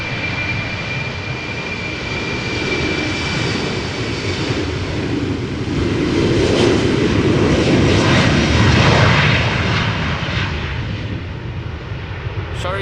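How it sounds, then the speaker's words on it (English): An Embraer 190 jet airliner departing Amsterdam Schiphol Airport on a flight to Dublin, its engines a broad steady roar that swells toward the middle and then eases, heard at some distance amid outdoor airport ambience. "Embraer 190 going to Düsseldorf,"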